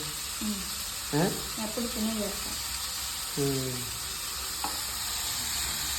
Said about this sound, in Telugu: ఇప్పుడు పాలకూర వేస్తుంది